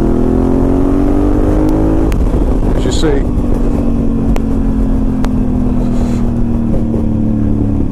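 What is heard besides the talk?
Honda Africa Twin DCT motorcycle with Remus exhaust accelerating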